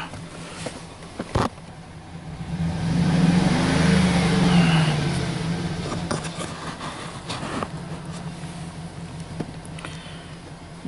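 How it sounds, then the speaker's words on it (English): A car engine with a cylinder misfire runs close by, a steady rough idle that swells briefly in the middle, with a few sharp knocks and clicks at the start. "So everything say okay here, and this car is misfiring."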